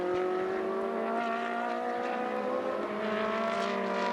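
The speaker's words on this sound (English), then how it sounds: "Comes out of the stadium section, down onto the towards the Sud curve, across the line, and Rick Lovett wins the first race for the" A race car lapping the Hockenheim circuit in a Coppa Shell race: a continuous, steady engine drone with a slowly shifting pitch, fairly loud and without breaks, heard alone with no talk.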